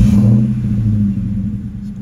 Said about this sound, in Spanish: Escuchen ustedes qué bonito se oye el motor.